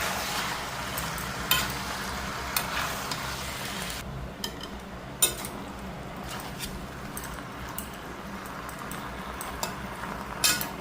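Boiled Malabar spinach sizzles in a pan with shrimp, a steady frying hiss under scattered scrapes and clicks of a stirring spatula against the pan, close and continuous without talk.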